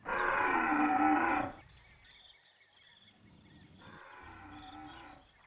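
A loud, deep dinosaur call in the game Carnivores+ bellows for about a second, then fades, followed by a fainter, more distant answering call over quiet ambient background.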